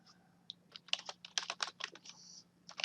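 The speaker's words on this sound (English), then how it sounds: "we want to type in another sentence" Quiet, close typing on a computer keyboard, an irregular run of soft key clicks in quick bursts with short pauses between them.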